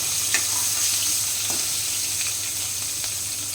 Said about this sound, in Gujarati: પછી આપણે મરચાં નાખીશું પછી આ બધું જ સરસ મજાનું આપણે શેકાઈ જાય